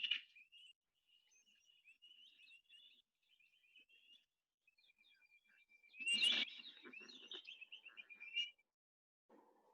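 A recorded cuckoo call from southern Kruger, Africa, plays as a series of thin, high whistled phrases, with a louder burst and fuller notes near the middle before the recording fades out.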